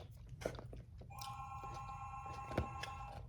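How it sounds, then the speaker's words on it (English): A house phone rings indoors with a steady electronic tone starting about a second in and continuing, faint and at a distance, with small clicks and rustles nearby. "And there go my house phone."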